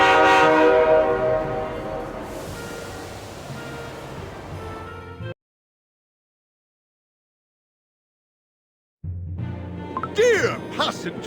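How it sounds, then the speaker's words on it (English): A holiday express train in the game Cookie Run Kingdom sounds a long, loud horn as it departs, which cuts to several seconds of silence before a burst of rail and train noise returns. "Our train is departing."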